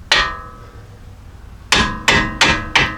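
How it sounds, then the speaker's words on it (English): A hammer taps a Jeep Grand Cherokee steering knuckle to separate the strut, one sharp metallic strike followed after a pause by four quick evenly spaced blows, close and loud. "so I'm going to tap on the knuckle right here"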